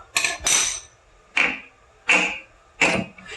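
Metal hammer blows on a bolt during a Rough Country 4-inch rear suspension lift install on a truck, five sharp ringing strikes at an irregular pace, close and loud.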